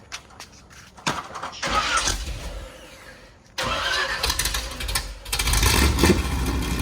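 A Lamborghini Countach monster truck engine cranks and catches, then roars up loudly and close by, rising in bursts with revving, while a few people react in the background.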